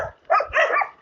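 Dogs bark outdoors in a couple of short, close bursts during a morning ride, standing alone without talk.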